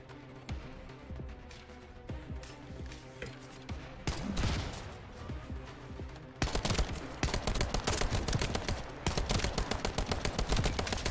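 Rapid automatic gunfire from a hard-recoiling weapon in The First Descendant, sustained bursts of sharp repeated shots that grow louder and denser partway through, close and continuous over game sound.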